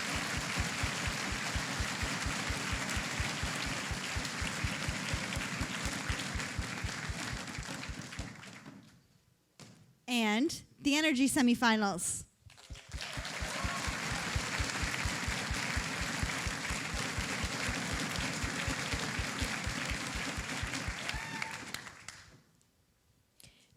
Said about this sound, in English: But round of applause for those who did make the semifinals.